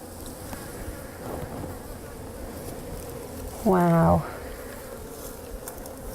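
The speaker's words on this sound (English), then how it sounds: "it's a rarity to see bees so close like this" Honey bees buzz on a hive frame held close, a steady low droning hum interrupted once by a brief spoken exclamation.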